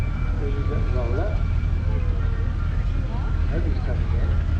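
A steam roller's low, steady engine rumble runs throughout a steam rally parade, loud and close, with voices talking over it.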